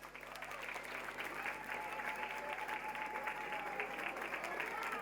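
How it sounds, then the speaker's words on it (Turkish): Sustained crowd applause at a wedding in an event hall, a steady dense wash of clapping, somewhat distant and even, with faint voices underneath. "Güçlü bir alkış gelsin"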